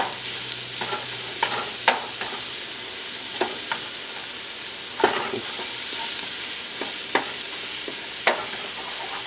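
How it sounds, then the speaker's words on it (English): Shallots sautéing in a hot pan for vegan pad thai, a steady close sizzle throughout with occasional light stirring clicks and no voices. "Want to saute this for about 2 minutes."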